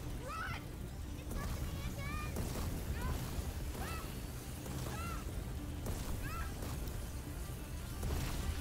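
A boat moves on water in the video game A Plague Tale: Innocence, with steady lapping waves and rushing water. Sharp squeaking cries repeat over it, and a voice speaks briefly.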